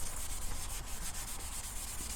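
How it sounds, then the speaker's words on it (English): Continuous abrasive rubbing of a soft sanding pad against a metal wiper arm from a Mk5 Golf R32, steady and close, with a hissy rasp and no pauses. "Time to move on to maybe try the sanding pad here for speed."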